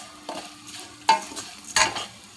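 Semiya vermicelli frying in ghee, stirred in a pan: a few distinct scraping strokes over a soft, quiet sizzle.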